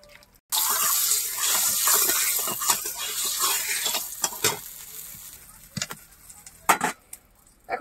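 Oil poured into a very hot wok (kadai) over a fire before frying river fish, hissing and sizzling loudly at first, then settling to a fainter crackle with a few sharp clatters near the end.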